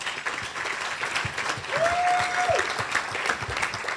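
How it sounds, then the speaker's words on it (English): An audience at a young professionals awards show applauds steadily for about four seconds, a dense wash of clapping with a brief whistle rising over it midway. "please give them all a round of applause"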